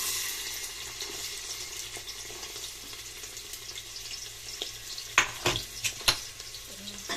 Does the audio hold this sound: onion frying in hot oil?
yes